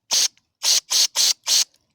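Carburetor cleaner sprayed into a jet of a Craftsman LT 4000 riding mower carburetor: five short, sharp hissing bursts close up, evenly spaced, with no talking.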